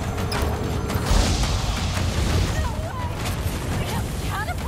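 Catapults hurling fireworks in Resident Evil 4, heavy booms and bursts landing one after another, with whistling streaks and pops threaded through, while a player talks over the battle noise.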